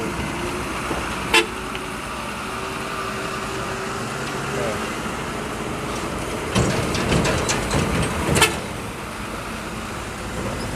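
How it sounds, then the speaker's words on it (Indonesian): Fuso dump trucks and a cement mixer rumble past on a road near a junction leading to Palembang and Jambi, a steady loud traffic drone with sharp horn toots and rattles; someone speaks over it. "Nah, ini ada dump truk Fuso 4 truk dan ada molen 1."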